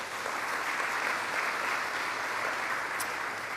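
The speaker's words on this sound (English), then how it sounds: "That deserves a round of applause," A steady wash of audience applause at a governor's event, moderately distant and even in level, with no voices over it.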